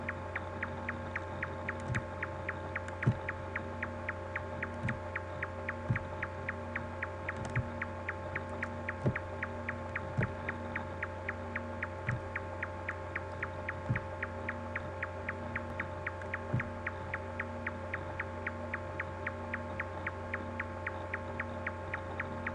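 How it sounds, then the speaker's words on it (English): A low, droning hum fills the space of a dream-like red maze, steady and unbroken, with a faint repeating pulse ticking through it at regular intervals and no voices. "trying to find an exit to escape this annoying humming sound, which got louder with every step she took"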